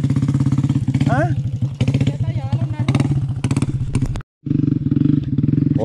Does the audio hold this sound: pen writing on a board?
no